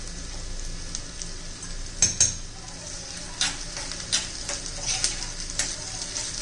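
Ginger-garlic paste sizzles steadily in hot oil in a pan with curry leaves and a pinch of asafoetida for a dahi tadka, with a spoon scraping and clinking against the pan as it is stirred.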